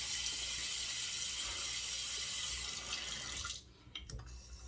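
Water runs steadily from a tap into a sink during a wet shave with a razor and bergamot shaving soap, a continuous close hiss that cuts off near the end, leaving a few faint drips and small clatters.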